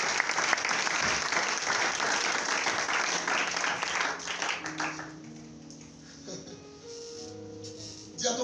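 A church congregation breaks into loud, sustained applause and clapping that fills the room, then thins out as musical tones and voices rise underneath toward the end.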